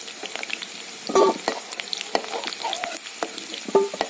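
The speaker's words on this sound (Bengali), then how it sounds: "আমার পেঁয়াজটা ভাজা হয়ে গেছে, এবার আমি রসুনটা দিয়ে দিচ্ছি" Onions sizzle and crackle in hot oil with scattered pops and occasional clinks of a utensil stirring, close by.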